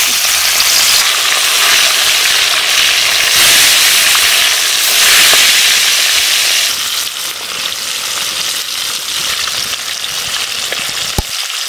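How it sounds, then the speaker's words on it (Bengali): Fish frying in hot mustard oil in a wok, a loud, steady, crackling sizzle that fills the whole stretch without letup. "তেল গরম হয়ে গেছে, মাছগুলো দিয়ে দিচ্ছি।"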